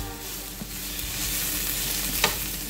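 Cooked nopales go into a beef stew in chile sizzling in a pan, giving a steady close frying hiss with a few soft stirring clicks and scrapes, no talk.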